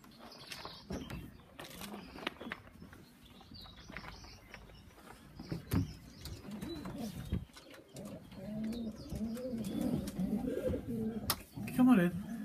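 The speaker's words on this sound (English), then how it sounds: "These ones are all race birds." Racing pigeons coo and stir in a new nest box, soft repeated coos and bird calls close by under a voice, with scattered wing flutters and rustling.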